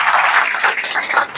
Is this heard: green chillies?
no